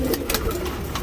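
A male Pilanka pigeon, a tournament flying breed, coos in low, throaty, rolling notes close by, repeating steadily over soft background noise.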